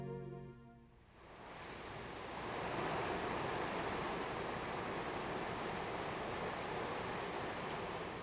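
A mountain stream upstream of Kuril Lake in deep forest over a gravel bed rushes in a broad, steady wash of water that swells after a quiet start and holds constant.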